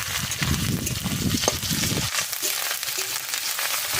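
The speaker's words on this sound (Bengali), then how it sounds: "পেঁয়াজটা একটু ভাজা ভাজা করে নেবো পেঁয়াজটা একটু ভাজা হয়ে গেলে এতে দিয়ে দেবো আদা রসুন বাটা" Onion frying in oil with ginger-garlic paste for a spicy duck curry, a steady close sizzle with scraping stirs early on, then a quieter, even hiss alone.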